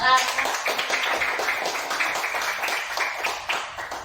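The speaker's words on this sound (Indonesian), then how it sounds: "Tepuk tangan untuk" Students clapping in a classroom after a group presentation, a close, fairly rhythmic burst of many hands with some voices mixed in.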